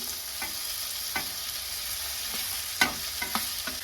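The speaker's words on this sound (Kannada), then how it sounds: "ಇವಾಗ ನೋಡಿ ನಾನು ಎಲ್ಲ ಮಸಾಲ ರೈಸಿಗೆ ಹತ್ಕೊಳ್ಳೋವರೆಗೂ ನೀಟಾಗಿ ಮಿಕ್ಸ್ ಮಾಡ್ಕೊಳ್ತೀನಿ" Cooked rice stirred into fried vegetables and masala in a pan for chitranna, with scraping stirs at irregular intervals over a soft, steady sizzle. No one speaks.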